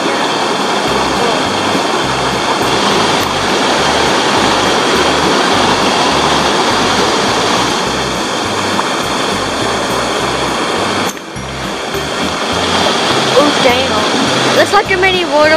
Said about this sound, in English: It's like a mini waterfall right there.